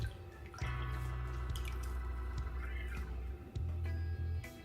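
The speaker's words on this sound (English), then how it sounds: "So we're gonna be straining it again." Homemade carrot and ginger juice is poured through a strainer with a continuous trickle and dripping, close and fairly soft, over a low steady hum.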